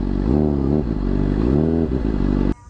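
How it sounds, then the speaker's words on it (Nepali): A Honda CBR600RR motorcycle engine idling loudly and close, with two rising revs as the bike is moved into a parking spot, then cut off abruptly at the end. "बाइक यतातिर राखिदिउँ"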